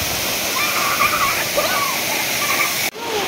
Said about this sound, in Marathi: खूप मस्त धबधबा आहे